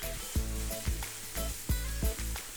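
Meat sautés in a pan with bell peppers and mushrooms, a moderate sizzle broken by repeated rhythmic knocks and scrapes of stirring, about six in quick succession, heard up close.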